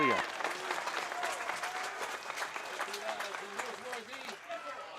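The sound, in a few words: baseball crowd cheering and applauding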